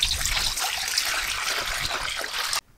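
Water pours into chilli bajji batter made with gram flour, a continuous close trickling splash that runs steadily for over two seconds and then stops abruptly.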